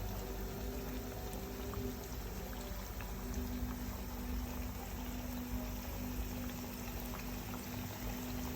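Breaded pork fillet deep fries in hot olive oil, giving a dense, continuous bubbling and sizzling hiss that stays even and close throughout, with no talk.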